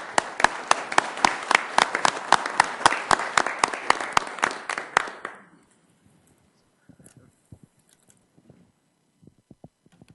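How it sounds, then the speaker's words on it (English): Audience applause rises at a Sioux Falls city council meeting, a lively burst of clapping that lasts about five seconds then stops, leaving quiet room noise with a few scattered knocks. "Just a round of applause, if you don't mind."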